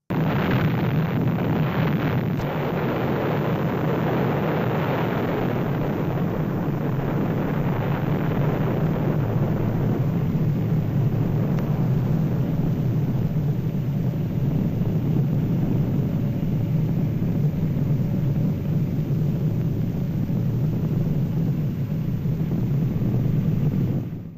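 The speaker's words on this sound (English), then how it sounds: "the United States dropped atomic bombs on Japanese cities of Hiroshima and Nagasaki" Atomic bomb explosion with aircraft sound: a long, loud, continuous rumbling roar with a dense, wind-like rush that holds steady throughout without a break.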